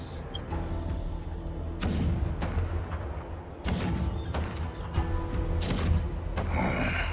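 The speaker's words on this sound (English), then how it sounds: "The rumble of the cannons." Cannons rumble in the Honkai Star Rail video game, deep booming blasts recurring at irregular intervals over a dense, continuous low roar of battle noise.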